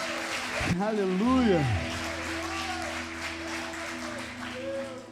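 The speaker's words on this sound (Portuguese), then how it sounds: "Você pode dar um forte aplauso ao Senhor?" A church congregation breaks into strong applause, steady and fairly close, while a voice calls out over the clapping.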